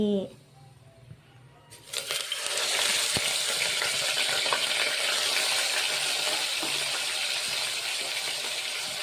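Freshly washed curry ingredients drop into hot oil and burst into a loud, steady sizzle that holds for several seconds, close up, after a brief quiet lead-in.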